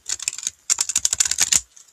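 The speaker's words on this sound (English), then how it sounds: "these cards are really hard to shuffle" A brand-new deck of shiny playing cards is shuffled nearby, making two quick bursts of rapid, crisp flicking clicks with a short pause between them.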